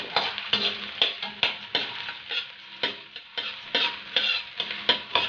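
Onions frying and being stirred in a pan at the start of a pork igado, a steady sizzle broken by regular scraping strokes of the utensil, close up with no talk.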